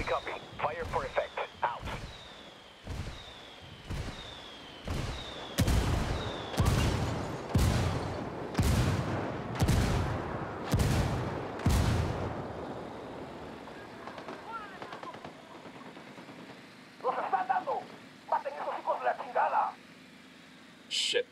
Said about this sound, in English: I'm calling for indirect fire. We copy. Fire for effect.